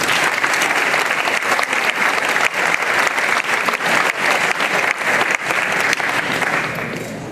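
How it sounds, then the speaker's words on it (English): Loud, sustained applause from an evening legislative meeting audience recognizing a championship team, thick overlapping clapping that holds steady for roughly seven seconds before easing off. "I would like to start off this evening by giving everyone a round of applause."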